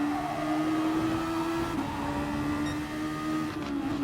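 Super Formula open-wheel race car in GT Sport at Interlagos, its engine holding a steady, loud high-pitched drone under way with slight pitch shifts, no talk over it.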